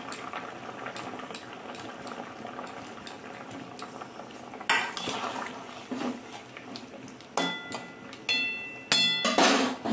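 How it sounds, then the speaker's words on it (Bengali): A pot of half-boiled potatoes bubbles steadily as the lid is lifted and fuluri fritters for an ilish dish are dropped in, with several short clattering bursts of lid and utensil over the constant boil. "ঢাকনা খুলে এবার আমি ফুলুরিগুলো দিয়ে দেব।"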